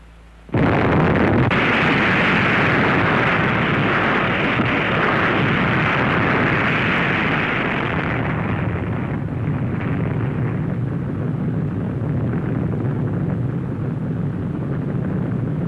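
A sudden massive underwater nuclear explosion erupts into a long, sustained roaring rumble that slowly dulls and fades but keeps thundering throughout.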